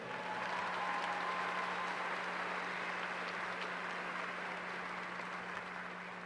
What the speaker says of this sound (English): Let us give our seniors a round of applause for all their hard work.